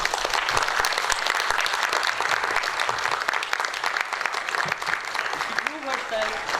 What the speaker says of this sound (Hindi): मेरी बहुत सारी दुआएं हैं आपकी भरपूर तालियों में डॉक्टर उरूबा।